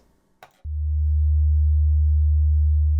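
A pure 75.5 Hz tone representing the pressure ringing inside a rocket launch tube: after a brief faint click, a loud, steady low hum starts abruptly and holds unchanged for about two and a half seconds.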